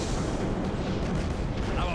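Imperial warship weapons firing in a Battlefleet Gothic Armada space battle, a dense continuous roar of booming gunfire and detonations running loud throughout, with no clear breaks between shots.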